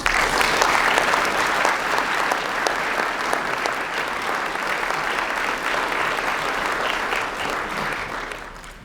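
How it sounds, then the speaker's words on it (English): A conference audience applauds steadily for close to nine seconds, with dense, even clapping filling the room at a constant loud level before it tapers slightly at the end. "please join me in giving a round of welcome applause to Bonnie."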